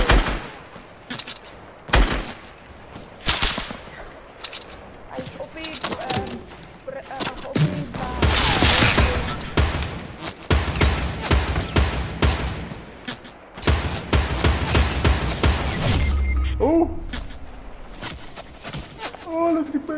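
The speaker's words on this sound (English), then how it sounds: "we're being shot at" Bursts of Fortnite gunfire in a Tilted Towers match, rapid volleys and single heavy shots coming in waves over roughly twenty seconds, loud and dense, with a player's voice talking over parts of it.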